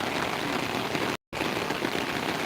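Heavy monsoon rain pours steadily near a river, a dense, loud hiss with one abrupt brief dropout in the middle.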